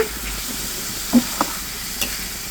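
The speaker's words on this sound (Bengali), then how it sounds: "এখন খুব সুন্দর করে নেড়ে চেড়ে এটা ভেজে নেব" Grated carrot with turmeric, coriander and cumin is stirred and fried in a pan: a steady, soft sizzle and hiss with a few light spoon knocks, no voices.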